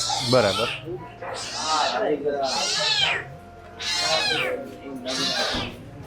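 Cats in an enclosed cat outpatient ward of an animal charity hospital meow repeatedly, with about five loud, drawn-out, close cries separated by short pauses.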